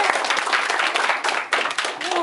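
Classroom students clap their hands together, a dense burst of close, steady applause filling the moment with a brief dip midway, voices mixed in.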